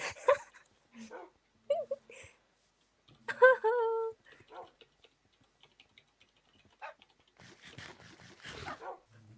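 Dogs in a video game bark in short, sharp bursts and whimper between them, the sounds sparse and fairly quiet, with a voice talking intermittently.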